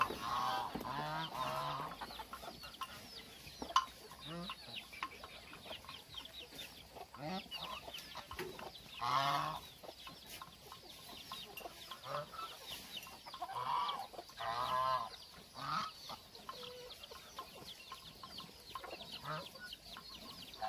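Geese honking and chickens clucking around cattle feed of chopped Napier grass on a farm, calls scattered and fairly close throughout, with a few louder honks standing out.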